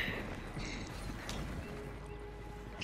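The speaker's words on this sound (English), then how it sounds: "My horse fades out of existence as it's running forwards." Soft, steady hoofbeats of a galloping horse in a video game, distant and low in level, with faint background tones.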